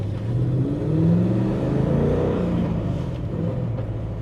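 Throaty rumble of a Ford AU Falcon XR8 Pursuit ute's 5.6-litre cast-iron V8 breathing through a fatter exhaust from the extractors back, a close, deep, steady drone that swells and eases slightly over a few seconds.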